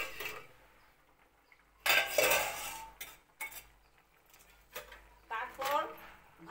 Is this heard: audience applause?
no